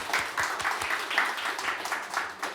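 Audience applause rises at a talk concert, a dense patter of many clapping hands with a few sharper individual claps standing out, steady and fairly close.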